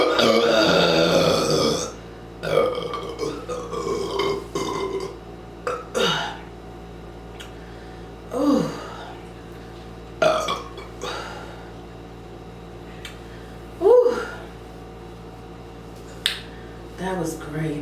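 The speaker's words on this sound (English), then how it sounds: "You burp a lot." Loud, drawn-out burps after drinking Pepsi, a long opening belch followed by a string of shorter ones at irregular intervals, with people talking and reacting between them.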